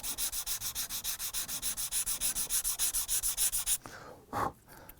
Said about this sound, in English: Again, a few seconds with the sanding stick.